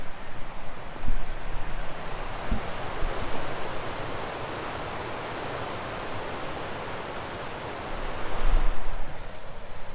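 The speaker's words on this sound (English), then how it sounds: "we are hearing a bunch of rushing water" River rapids along a trail in Grand Teton National Park, a loud, constant roar of rushing water filling the whole clip, swelling slightly near the start and end.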